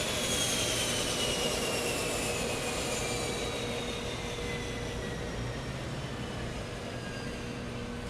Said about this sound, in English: The airport ground flight officers directed the aircraft to appropriate parking